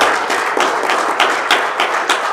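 A crowd applauding at a sports event in Accra, Ghana, steady dense clapping throughout with rhythmic bursts, loud and close, no talking over it.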